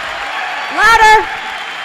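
An audience applauds at a 2025 Corrales mayoral candidate debate, with a loud whooping cheer rising over the steady clapping midway before settling back.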